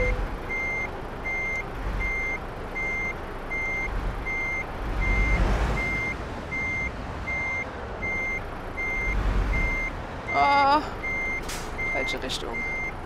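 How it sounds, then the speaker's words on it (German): A truck's reversing alarm beeps steadily and evenly while it reverse parks in Euro Truck Simulator 2, with engine rumble and air brake hisses beneath and someone talking at times. "Ich versuche mich gerade im Rückwärts einparken."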